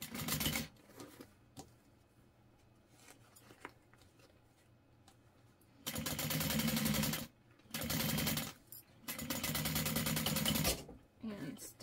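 A sewing machine stitches a fabric pouch together in several loud, sustained bursts of rapid needle clatter, separated by pauses filled with quieter handling noise and soft talk.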